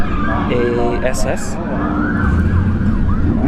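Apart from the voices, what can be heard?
police siren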